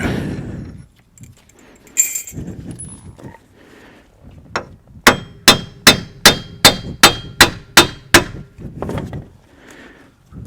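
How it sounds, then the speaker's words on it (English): A brass hammer strikes a car's front axle about ten times in a steady rhythm during a CV boot replacement on a Chevy Cobalt or Pontiac G5, each blow a sharp ringing clang, after some quieter shuffling and knocking. "We're using a brass hammer just so that we don't damage up anything on the front of the axle"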